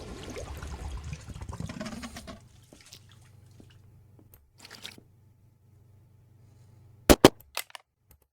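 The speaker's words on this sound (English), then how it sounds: "More gunshots." Crime audio drama gunfire: after a rustling, murmuring stretch and a quiet hum, two loud sharp shots crack close together, followed by a fainter third pop.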